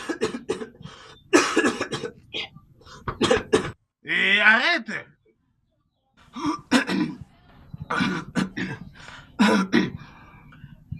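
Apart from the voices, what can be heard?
coughing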